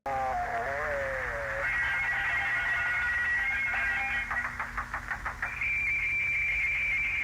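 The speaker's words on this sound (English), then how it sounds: "the way that the sound was edited in post, it's very staticky" Crackling, radio-like static with warbling electronic tones, rapid fluttering pulses and a high whine, fairly loud and with no talking.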